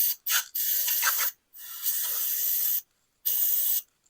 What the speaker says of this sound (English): And then we're going to pressure it off. Pressure spray.